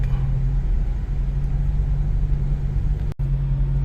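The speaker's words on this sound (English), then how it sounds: "Bumper to bumper traffic." Steady low rumble of cars crawling in bumper-to-bumper afternoon traffic near Washington DC, a constant engine drone heard from inside a vehicle, with no talking.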